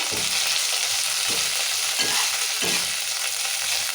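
Onions, green chillies, curry leaves, mint and coriander frying in oil for tomato rasam, a dense continuous sizzle heard close, with soft periodic stirring thumps underneath.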